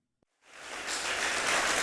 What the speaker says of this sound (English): Another round of applause from Rick Sabalos and Lazan Allen